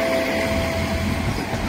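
An ICE train rolls into a platform at Kiel main station at night, a low, fairly quiet rumble with a thin, steady whine running through the short stretch.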